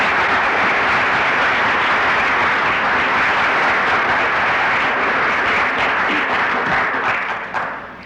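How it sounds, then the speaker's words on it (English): An audience claps in the usual way after a lecture by Edsger W. Dijkstra, a loud, sustained wash of applause that holds steady for the whole stretch before thinning slightly at the end. "suggest that we clap him in the normal fashion"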